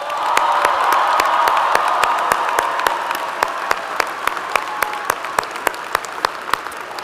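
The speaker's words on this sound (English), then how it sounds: "I think he deserves a round of applause" A large commencement crowd at Southern Utah University applauds for President Wyatt, a dense sustained wash of clapping that thins over time, leaving sharper individual claps standing out near the end.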